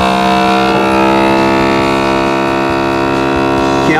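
A Magic Seal MS400 vacuum sealer pump drones steadily with a strong tonal hum, running continuously and loudly, with no voices.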